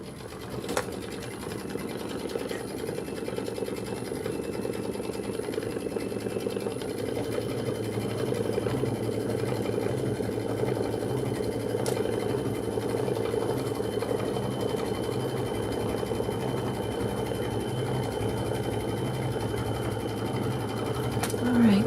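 A sewing machine quilting a Kimberbell Jelly Tote insert runs continuously with a steady, even mechanical whir and rapid needle patter, close and fairly loud throughout, with faint background sounds.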